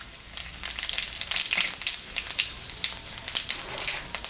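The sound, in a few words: whole spices (cumin, dry chili, clove) sizzling in hot oil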